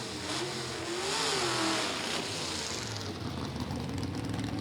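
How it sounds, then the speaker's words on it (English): A drag racing car does a burnout at a drag strip event, its engine roaring loud and close with rising revs and a continuous tire-spinning roar throughout. "What a burnout!"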